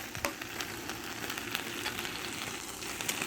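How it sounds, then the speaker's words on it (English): Rice fries on a hot plate with a soft, continuous sizzle and small crackling pops scattered through it, fairly quiet and close, with no talking. "finish the little frying procedure on my rice"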